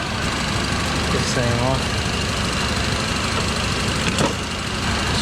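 A 1978 Ford F100 V8 idles steadily after a Holley Sniper EFI install, having been parked for years, with a loud, constant rumble; someone speaks briefly over it.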